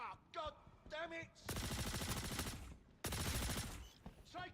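Video game gunfire comes in two long, loud bursts of rapid automatic shots, each lasting about a second and a half, with game voices and effects between and around the bursts.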